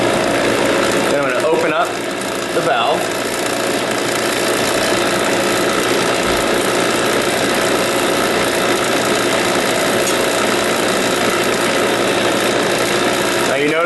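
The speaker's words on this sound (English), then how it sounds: "first turn on my pump so I don't lose my vacuum" An HVAC vacuum pump, used with a micron gauge, runs loud and close in a steady mechanical drone while someone talks over it.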